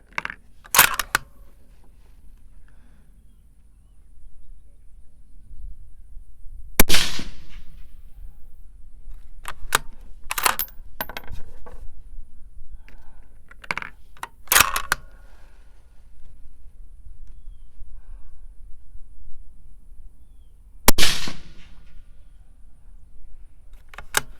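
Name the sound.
223 precision rifle gunshots, 77 grain TMK load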